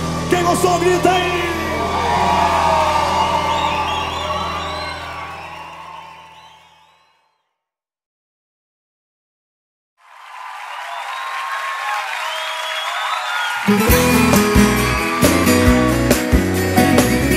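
Live crowd at a sertanejo concert yelling and cheering loudly, then a few seconds of silence before a second burst of crowd noise as band music kicks in.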